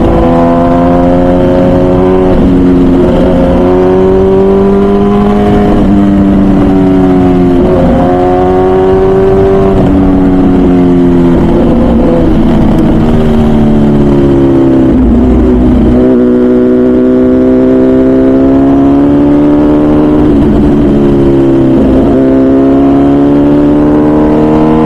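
MV Agusta Brutale 1000 RR naked superbike ridden hard at the Nurburgring, its engine loud and close, rising and falling steadily through the gears and turns for the whole stretch.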